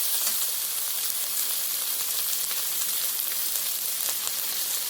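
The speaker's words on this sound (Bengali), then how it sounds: "এখন আমরা চিকেনটাকে ভালো করে এপাশ ওপাশ করে নেড়ে চেড়ে ভেজে" Chicken pieces fry in spices for a samosa filling while being turned. A dense, even hiss of frying carries on steadily without pause.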